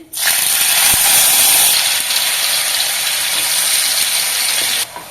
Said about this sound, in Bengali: দেখুন আমি কিছুক্ষণ পেঁয়াজটাকে ভেজে নেবো